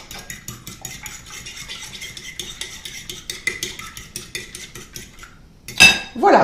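A cream, milk, salt and pepper mixture beaten quickly in a bowl for a Monte Cristo sandwich: a rapid, steady run of metal clicks and taps against the bowl, ending with a couple of louder knocks.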